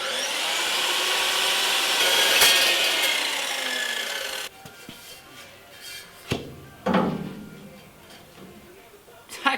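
Power tool cutting a hole in the metal body of a manure spreader being converted into a trailer, a loud, continuous rasping grind for about four seconds that stops abruptly, followed by scattered knocks and handling sounds.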